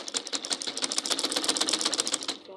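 A sewing machine stitches a half-inch seam around a short gown, its needle chattering in a fast, even run of close, moderately loud pulses that stop abruptly at the end.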